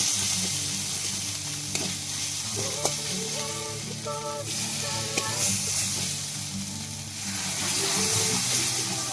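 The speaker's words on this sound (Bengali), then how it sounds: "দিয়ে হালকা নেড়ে নেবো, মশলাটা কষিয়ে নেব।" Masala with a little chilli powder sizzling and frying in a pan while being stirred, with steady hiss and intermittent scraping and clinking of the spoon against the pan, close and moderately loud.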